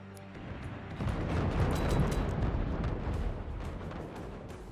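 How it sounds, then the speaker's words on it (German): Cannon fire in the Forts multiplayer artillery game: a loud, booming barrage of overlapping explosions rolling continuously for several seconds, heavy low rumble with crackling bursts layered on top. "Ich hab meine eigenen Kanonen angeschossen."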